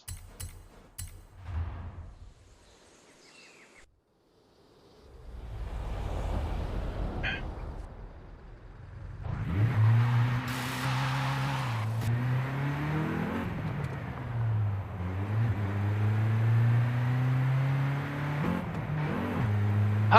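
A Volkswagen Golf GTI engine in a racing video game revs and accelerates through repeated gear changes, a loud, steady droning whine rising and falling in pitch after a quieter opening.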